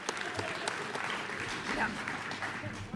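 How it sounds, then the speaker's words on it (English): Audience at the Oxford House World Convention applauds, a continuous patter of many hands clapping at a moderate distance, steady throughout, with crowd voices mixed underneath. "let's have another round of applause for that"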